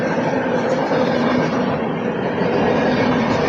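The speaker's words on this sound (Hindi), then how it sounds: "बिलासपुर से डिपार्चर ले रही गाड़ी। टाटानगर शेड के WP7 के साथ दुर्ग आराध साउथ बिहार एक्सप्रेस" The Durg–Arrah South Bihar Express, hauled by a Tatanagar-shed WP7 locomotive, pulls out of Bilaspur station as a loud, close, continuous rumble of rolling wheels and cars that holds steady throughout.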